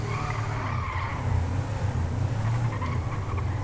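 A car driven in the video game GTA 5 with steady engine drone and tire skidding throughout, a loud continuous roar with no pauses.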